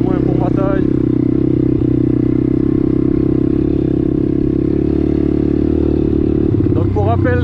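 RXF Apollo 150cc dirt bike with big wheels ridden on a slippery surface, its engine a steady loud drone close by with wind rumble, and someone talking briefly at the start and end.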